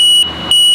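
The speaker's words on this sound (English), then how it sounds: "You hear that beeping noise on the door?" Electronic door warning tone on an Irish passenger train running from Dublin to Limerick, a steady high beep that stops briefly and then sounds again, loud and close, with no talking.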